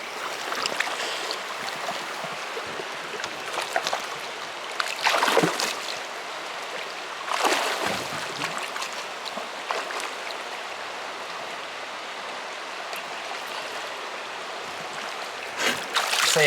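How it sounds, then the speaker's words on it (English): Fine gravel and water swished around in a gold prospecting pan, giving repeated sloshing and trickling washes at close range, with louder surges every few seconds and no talk. "you're just swishing that finer material"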